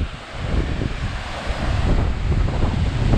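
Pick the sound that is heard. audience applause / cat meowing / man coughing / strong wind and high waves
strong wind and high waves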